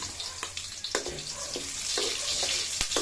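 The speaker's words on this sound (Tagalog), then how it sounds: "unahin natin igigisa yung ating bawang" Garlic sautéing in a pan for a home-cooked catfish dish, a steady close sizzle with occasional stirring scrapes and clinks.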